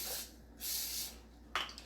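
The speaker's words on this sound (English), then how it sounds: "it's advisable for you to spray your foil with spray butter so the cheese doesn't stick" Spray butter hisses from a can onto aluminum foil during lasagna prep, two fairly faint bursts of several tenths of a second each, followed by a brief sharper rustle or clatter near the end.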